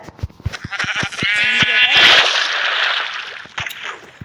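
A sheep lets out a loud, wavering bleat up close, preceded by clattering knocks and followed by splashing water noise.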